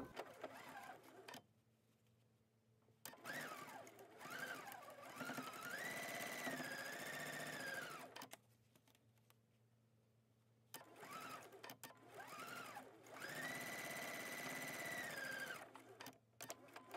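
Sewing machine stitching strips for a log cabin courthouse steps quilt, running in two long loud bursts separated by quiet pauses, with a steady whirring motor and rapid needle chatter.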